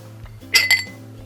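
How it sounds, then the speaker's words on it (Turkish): A drinking glass is picked up in a kitchen where orange lemonade is being made, giving two quick, bright clinks close by over a low steady hum. "Şöyle ben bir tane bardak alayım."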